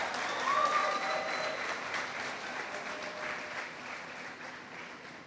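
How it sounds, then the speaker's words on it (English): A graduation audience at a school ceremony applauds steadily, a broad wash of many hands clapping at a distance for several seconds with faint cheering mixed in. "So let's clap for that."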